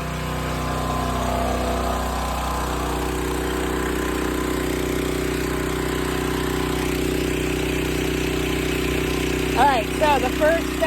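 Portable generator engine running steadily nearby with a constant mid-pitched drone, holding level throughout, with a few brief higher chirps near the end.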